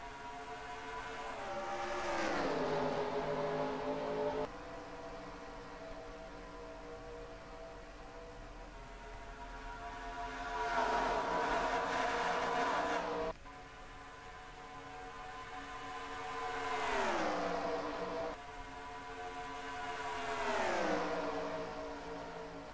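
Racing trucks at a Las Vegas oval climbing through the gears after the green flag, engines whining upward in repeated rising sweeps that swell and fade as the pack passes, loud and continuous with no talk over them.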